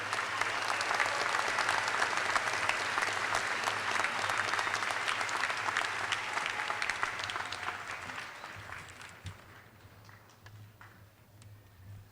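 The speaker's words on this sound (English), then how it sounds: "Please join me in applauding these graduates from the College of Engineering." A commencement audience applauds College of Engineering graduates with a broad wash of clapping that holds steady, then tapers after about eight seconds into sparse, fading claps over a low room hum.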